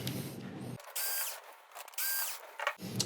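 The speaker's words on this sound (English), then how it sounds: "We're going to pull out these two screws." A powered screwdriver backs screws out of a Sony XBR-49X800E television, two separate whirring bursts, each about a second long, with quiet handling noise between them and close by.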